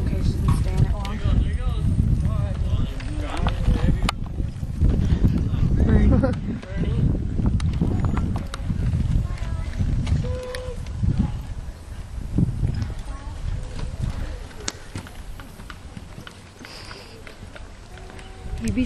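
Rhythmic hoofbeats of a horse at a long trot at a roping session thud steadily underneath people talking, with creaking and rustling movement around them, close and fairly loud.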